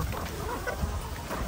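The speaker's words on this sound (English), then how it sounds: "See those chickens right there?" Chickens clucking on a farm, a steady dense murmur of hen calls close by and fairly loud, with no talk over it.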